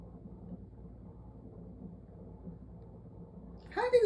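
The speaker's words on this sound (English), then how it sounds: "Oh, it's raining hard, and it's windy hard." A hurricane at an island house sends a steady, muffled low roar of heavy rain and strong wind that runs throughout, and a person's voice breaks in briefly near the end.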